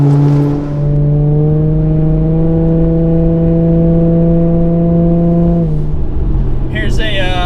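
Car on Michelin Pilot Sport AS-3+ tires taking a corner at about 70 mph, a loud steady engine drone with a held tonal pitch inside the cabin, then a brief shift in tone near the end; a voice talks under it.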